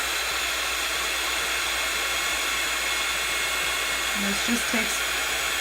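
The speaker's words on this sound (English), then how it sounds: "we're going to take our heat gun and heat that up" A heat gun blows in a continuous, even whoosh while heating embossing on a stamped card, with a voice speaking briefly over it near the end.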